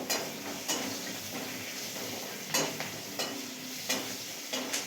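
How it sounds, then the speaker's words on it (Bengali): Green chillies sizzle in a little oil in a wok already used for frying fish and potatoes, a steady crackling hiss broken by sharp stirring scrapes and clinks of a spatula against the pan. "মা কড়াইয়ের মাছ ভেজে আলু ভেজে তেলে অল্প তেল দিয়েছে তার মধ্যে কাঁচা লঙ্কা দিল"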